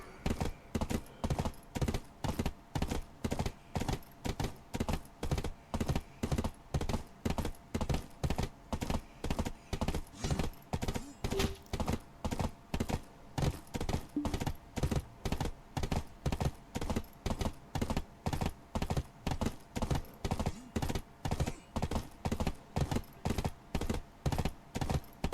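Horse hooves clip-clop in a steady, quick rhythm through the whole stretch, a loud unbroken run of hoofbeats from the online game Black Desert, with no voices over it.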